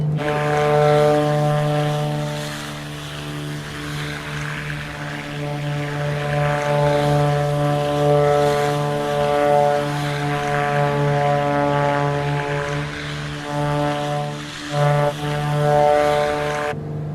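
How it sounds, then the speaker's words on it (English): Black Square Grand Duke propeller aircraft engine in the MSFS flight simulator gives a loud, steady, droning hum with strong tonal harmonics that holds throughout, with a slight swell and dip near the end and no talking. "listen to that engine, man."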